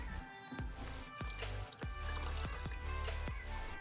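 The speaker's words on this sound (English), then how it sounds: "So I think I'll just add a smidge more water." Water poured in small splashes and drips into a pot of homemade tomato sauce for pizza, several distinct plops in quick succession, close and fairly quiet with no talking.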